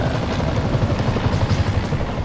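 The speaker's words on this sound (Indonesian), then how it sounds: "kita ngejar helikopter ya ini ya?" A helicopter being chased in Marvel's Spider-Man on PS4, a loud, steady rotor thump with a dense engine roar filling the whole stretch, with no talk over it.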